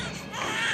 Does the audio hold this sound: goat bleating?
no